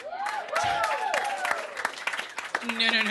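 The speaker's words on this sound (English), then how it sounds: "Don't clap for that." An audience claps and applauds at a live comedy show, a scattered burst of hands over laughter and voices.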